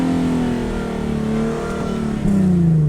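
A Nissan 370Z engine holds a steady drone pinned at its 4,000 RPM rev limiter, loud and close, with the pitch wavering slightly and stepping briefly near the end without climbing higher.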